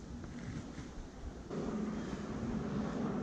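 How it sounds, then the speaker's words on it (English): An airplane flies overhead during fishing for carp and catfish, a steady broad low rumble at moderate distance that swells slightly louder halfway through, with no other distinct sounds. "You guys can hear there's an airplane out there."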